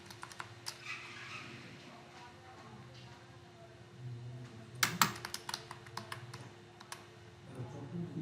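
Typing on a computer keyboard at a Windows PC: a run of quiet, close key clicks, with a denser, louder burst of keystrokes midway, over a steady low hum.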